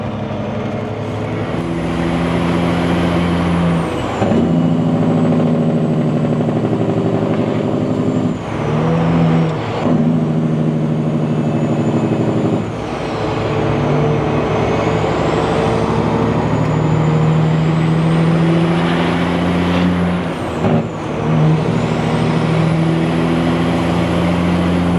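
Heavy truck with an 18-speed transmission running up through the gears, its loud engine drone rising in pitch, dipping briefly at each shift around five and nine seconds, then pulling steadily again with no talking.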